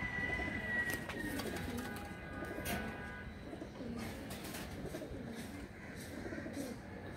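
Pakistani Giribaz highflyer pigeons coo faintly and intermittently within a noisy, hissing loft ambience.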